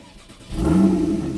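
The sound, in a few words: Porsche 981/991 engine starting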